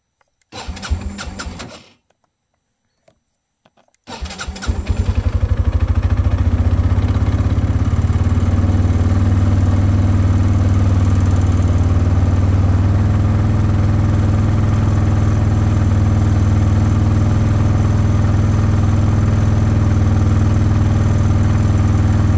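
A petrol engine running very rich, with its fuel tap open, cranks briefly, cuts out, then fires and settles into a loud, steady idle that continues alone to the end.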